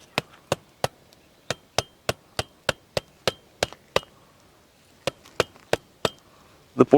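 Sharp, evenly spaced taps as a big ostrich egg shell is cracked around its middle, about a dozen crisp knocks, a short pause, then another run ending in a heavier clatter, close and without talk.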